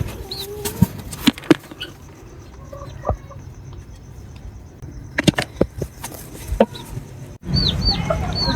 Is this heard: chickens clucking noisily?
yes